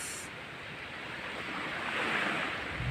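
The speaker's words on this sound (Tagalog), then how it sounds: "Dito po ako ngayon sa tabi ng dagat kasi maglakad-lakad." Ocean waves washing onto a seashore, a steady rushing surf with wind noise on the microphone, swelling slightly louder toward the end, with no voices.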